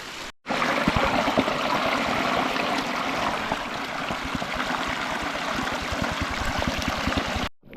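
A stream runs along a trail at Wynoochee, its water flowing and splashing steadily and fairly close for several seconds, with no voices.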